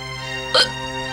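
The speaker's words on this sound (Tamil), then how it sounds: "உங்க அம்மாவுக்கு ரொம்ப நேரமா விக்கல் வந்துட்டே இருக்குப்பா" A woman hiccups once, in a short, sharp burst over a steady background hum, in the setting of a Tamil TV drama.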